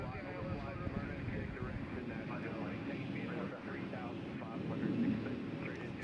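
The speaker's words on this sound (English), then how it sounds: "We got American Airlines coming in from DFW on 20 right." An American Airlines airliner arriving from DFW on runway 20 right at Nashville International Airport gives a steady, fairly distant engine rumble throughout, with people talking over it.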